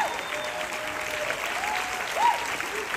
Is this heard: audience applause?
yes